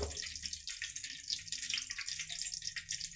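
Mustard seeds spluttering in hot oil for a dal sambar, a dense continuous crackle and hiss of popping seeds, faint and close, steady throughout without talking.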